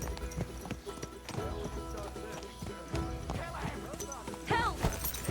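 Horse hooves clip-clop at a steady trot alongside a horse's whinny, with voices talking over them in a busy outdoor scene in the video game Kingdom Come: Deliverance II.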